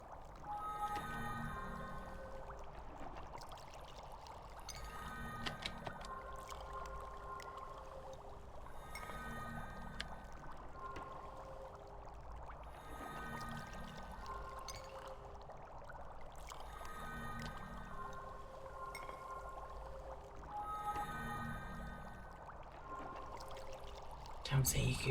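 Bubbling, gurgling crafting sounds from EverQuest II repeat in soft cycles every few seconds, faint and watery, with a quiet steady background.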